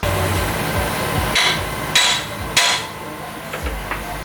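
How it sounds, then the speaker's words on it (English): Several loud metallic whacks ring out as a sledgehammer strikes the side of a truck steering knuckle during a lift kit install, spaced about half a second apart over a steady background noise. "if you have a big sledgehammer or even a medium-sized sledgehammer, just hit right there on the side of the knuckle"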